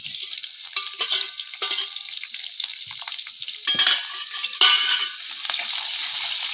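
Onions frying in a pan give off a steady, bright sizzle, broken by repeated scraping and stirring strokes, close and fairly loud with no voices.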